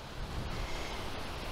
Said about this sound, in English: Yeah, it's gotten pretty windy.